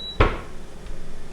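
A single sharp thunk as a microwave door shuts, followed by a low steady hum.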